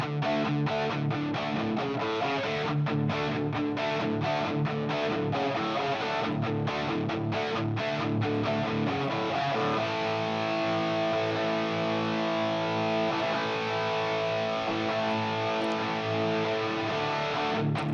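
Heavy distorted rock guitars play a steady, dense riff through a wide room reverb from a Seventh Heaven plugin, loud and continuous with a sustained chord ringing out toward the end.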